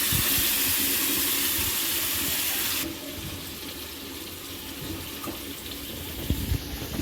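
Tap water runs steadily while something is rinsed during home chicken biryani cooking. The flow is loud and hissing at first, then suddenly drops to a quieter trickle.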